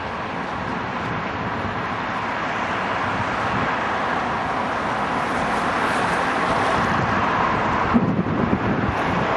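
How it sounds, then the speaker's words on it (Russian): Strong wind in Saint Petersburg buffets the microphone with continuous low rumbling gusts, and a faint traffic hum sits underneath as the blast swells slightly louder toward the end. "Ветер с ног сдувает."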